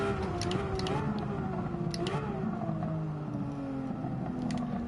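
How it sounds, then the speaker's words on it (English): Steady car engine in Gran Turismo 7 racing on a wet track with intermediate tyres, a sustained droning tone with small pitch shifts as the revs change, loud and continuous throughout with no talking. "I like the sound of this car. It's got a good engine."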